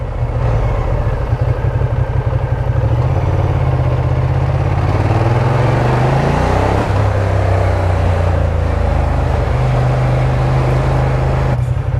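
A Ducati Diavel Dark motorcycle engine drones loudly while being ridden, with a sustained deep rumble that rises and falls through a smooth rev sweep midway. Wind roar runs throughout, and no voices are heard.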